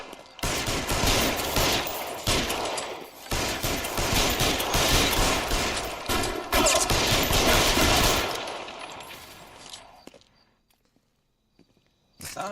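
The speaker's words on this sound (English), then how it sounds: "That's a cool place to have a gunfight." Sustained gunfight in L.A. Noire: dense, loud bursts of automatic and rapid gunfire fill most of the stretch, then cut off into near silence with a few faint clicks at the end.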